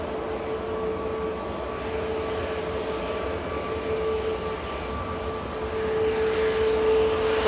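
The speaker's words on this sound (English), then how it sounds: "Ryanair departing to Berlin now with flight 1145." A Ryanair airliner departing Manchester Airport for Berlin gives off a steady broad jet roar with a faint tonal whine, swelling slightly louder toward the end.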